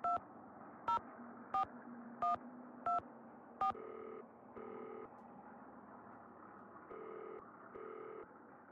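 Telephone keypad tones in a Nancy Drew game, six crisp dual-tone beeps at an even pace, followed by a repeating ringback signal heard faintly on the line.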